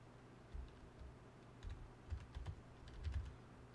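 Soft, quiet typing on a computer keyboard: irregular clusters of light key clicks tapping in short bursts against faint room hiss, with no voices.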